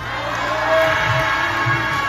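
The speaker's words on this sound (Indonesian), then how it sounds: "Semuanya teriak saloka yang kenceng ya." Crowd of theme park visitors at Saloka Theme Park in Semarang shouting together on cue, a broad sustained roar of many voices with a couple of surges, close and loud.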